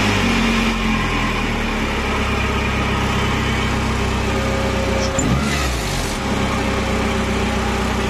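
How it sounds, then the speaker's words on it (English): A Saab 900 engine sits at an abnormally high, steady idle, a constant loud drone with no one talking over it. "An unrequested high idle then."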